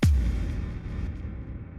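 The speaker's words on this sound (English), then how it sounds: "We've got an impact." A music-production impact sound effect hits hard with a deep booming thump at the start, then decays into a rumbling, slowly fading tail over under two seconds.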